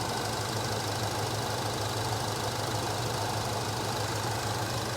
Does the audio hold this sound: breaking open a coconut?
no